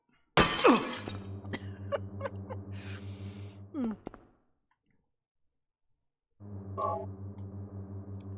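Glass shatters loudly up close in Silent Hill, a sharp crash followed by scattering tinkling shards, then a steady low humming drone that cuts out and returns after a short silence.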